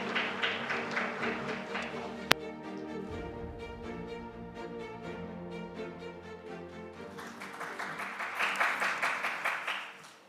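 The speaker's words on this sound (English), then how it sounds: "Please welcome him with a big round of applause." A conference audience at a smart city symposium claps to welcome a speaker to the stage, the applause rising near the start and again toward the end around a steady tonal stretch, moderately distant.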